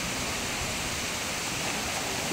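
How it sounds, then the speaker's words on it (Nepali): Steady rushing of a waterfall and stream running below a hillside trail, a continuous broadband wash of cold flowing water with no breaks, fairly close and even in level throughout. "झरनाको चिसो पानी"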